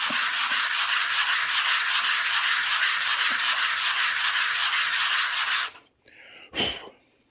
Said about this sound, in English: first we'll sand this here side